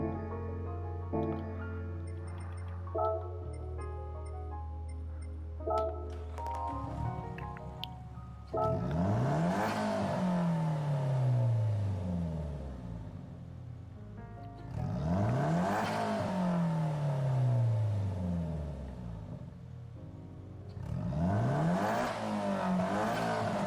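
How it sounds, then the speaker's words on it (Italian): A swapped car engine in Gran Turismo 7, rated at 1052 horsepower and 1186 Nm of torque, revs hard in three long rising-and-falling bursts after a short stretch of quieter tonal sound. Each rev sweeps up loudly and then winds back down. "mentre sentiamo il sound del motore"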